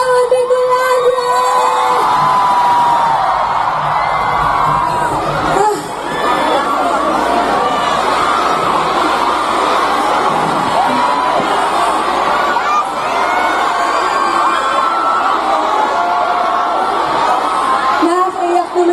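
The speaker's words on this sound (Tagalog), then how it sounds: "Marinig ng sigawan ni Coladia!" A large crowd at a grand political rally in Naga City, Camarines Sur, cheers and shouts continuously, a loud dense roar of voices with whoops; an amplified voice speaks briefly near the start.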